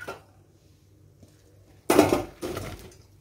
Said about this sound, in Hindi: अब इनको डालेंगे एक बड़े बर्तन में।